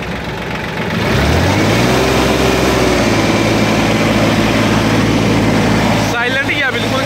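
A 4x4 mini tractor with a rotavator fires up after a quiet moment, then its engine runs and is revved, a strong close drone that holds steady while people talk nearby.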